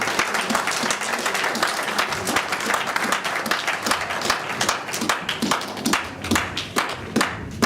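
A church congregation applauding to acclaim the Lord, steady dense clapping from many hands, loud and close, sustained throughout with a few sharper individual claps near the end.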